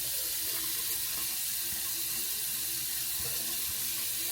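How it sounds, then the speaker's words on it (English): Tap water runs steadily into a bathroom sink as it warms up, a continuous close splashing hiss with no talking. "Then I let the water get warm"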